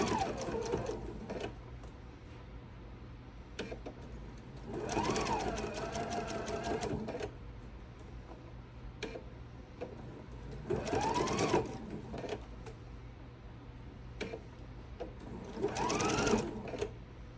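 A sewing machine stitches a ruffle onto a lemon-print apron in three slow, steady bursts of rapid needle whirring, separated by pauses with faint handling noise, fairly close and quiet.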